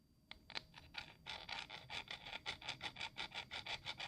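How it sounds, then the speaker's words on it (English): A hand file rasping across a hard spot weld on a steel key, quiet close-up strokes that start sparse and settle into a steady rhythmic back-and-forth scratching, about three strokes per second. "The file scratches it, but man, oh man, is that hard."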